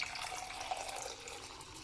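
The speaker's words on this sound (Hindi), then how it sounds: "और इसमें हम डालेंगे गर्म पानी" Hot water is poured into a cup of coffee with a spoonful of ghee, a steady close trickling stream with no speech.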